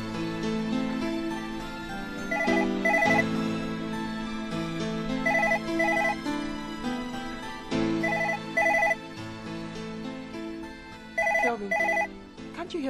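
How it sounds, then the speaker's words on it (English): A telephone rings repeatedly in a domestic scene from an African movie, its bursts of bright electronic ringing recurring at steady intervals over background music and room sound. "you hear the phone ringing?"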